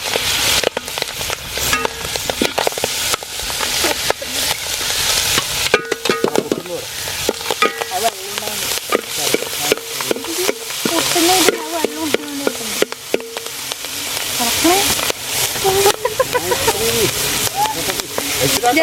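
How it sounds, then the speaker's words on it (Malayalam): Clams frying in hot oil in a village kitchen, a loud, crackling sizzle with repeated stirring clatter, heard under a person talking throughout. "നമ്മൾ കക്ക അതിലിട്ടിട്ടൊന്ന് മൊരിച്ചെടുക്കേ വേണ്ടൂ."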